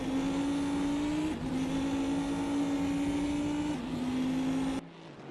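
Cadillac race car in GTR2, heard from the cockpit as a loud, steady engine drone that holds its pitch through two brief gear changes, then cuts to quiet near the end.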